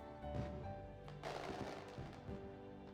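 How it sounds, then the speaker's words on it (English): Fireworks bursting at a distance, a few muffled booms and crackles rising over a steady low background rumble, fairly faint and with no talking. "we watch the fireworks in silence for a short while"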